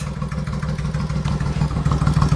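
A customized 2002 Suzuki Intruder VS1400 motorcycle idles close by with a low, throbbing, uneven engine rumble and light mechanical clatter, steady throughout.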